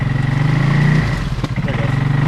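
A 2020 CFMoto Cforce 600 ATV engine idling and pulsing on light throttle while stuck in mud, a loud close steady drone with a slight dip midway.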